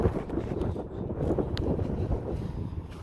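Strong wind gusts roar and buffet the microphone outdoors beside an abandoned Bradlee's store in Hazlet, New Jersey, a continuous loud rumble with no talking.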